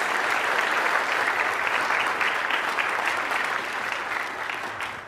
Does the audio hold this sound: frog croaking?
no